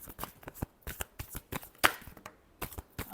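Tarot cards are shuffled by hand in a final quick series of riffling flicks and soft slaps, close and crisp, with no talk over them.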